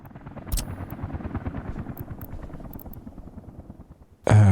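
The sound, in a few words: helicopter flying in Workers & Resources: Soviet Republic video game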